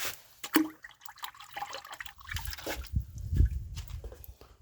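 Muriatic acid poured neat down a toilet pipe trickles and drips in uneven spurts, with soft liquid splashes and gurgles close by and no talk.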